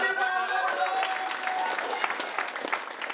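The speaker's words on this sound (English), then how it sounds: "Tristan, let's give Tristan a big round of applause!" An audience at a youth mental health forum in Albury-Wodonga applauds warmly, a continuous wash of many hands clapping with a few voices mixed in.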